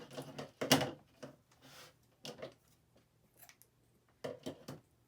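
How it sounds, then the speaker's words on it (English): Scissors snip a few times, trimming excess yarn after knotting for a yarn wall art craft, with sharp separate cuts and light handling noises in between in a quiet room. "I'm going to go ahead and trim off the excess just a little bit so that it's not so long"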